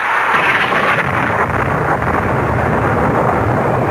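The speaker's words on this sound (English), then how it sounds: "With the fury of a demon, a tropical storm broke, and huge waves lashed at the shore below us." Tropical thunderstorm sound effect for a radio drama: a loud, steady roar of storm noise with a low rumbling undertone, continuous throughout with no voices.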